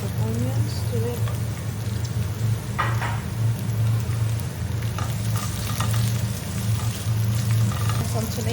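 Chopped onions sizzling and frying in a hot pan, a steady bright crackle with occasional stirring scrapes, close and constant under a quiet voice.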